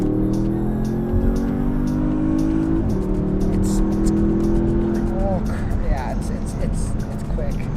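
A 2018 Porsche Panamera Turbo Sport Turismo launches hard from a standstill, its engine climbing through rising revs with a sharp gear change partway, then a loud, sustained pull as speed builds, heard from inside the cabin.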